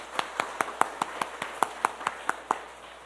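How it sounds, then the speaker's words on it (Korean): A church congregation claps for its teachers in steady, evenly spaced claps, about a dozen sharp hits at a quick regular beat, crisp and fairly close, with nothing else over them. "우리 박수로 한번 격려하겠습니다."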